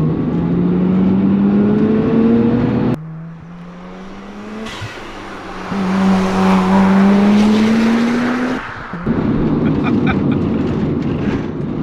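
A Mazda RX7 FD's rotary engine rises in pitch through the gears, with loud rising drones broken by brief dips at each shift as the car pulls away and accelerates. Speech can be heard faintly beneath the engine.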